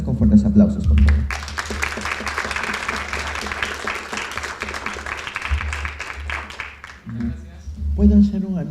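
An audience at a book fair panel in Lima breaks into loud, sustained applause that welcomes the speakers, with a voice talking briefly before it swells and again as it fades.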